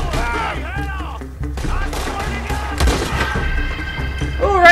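Rifle gunshots in the video game Red Dead Redemption 2: several sharp shots crack out over a background of game music, with someone talking between them.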